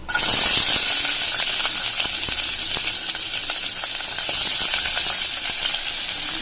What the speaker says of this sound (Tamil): இப்போ நான் பட்டையும் கிராம்பு போட்டுட்டு வெங்காயம் போட்டுடலாம்